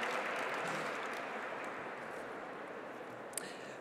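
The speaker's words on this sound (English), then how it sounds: "I think that deserves a mega round of applause." An audience at a climate awards evening applauds a prize winner with a thick, continuous wash of clapping that stays strong throughout and eases only slightly toward the end.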